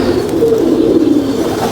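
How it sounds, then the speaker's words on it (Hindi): Ferozpuri pigeons cooing close by, a steady low throaty murmur of overlapping coos with no talk. "ये दो कबूतर मैंने आपको पिपला के दिखाए।"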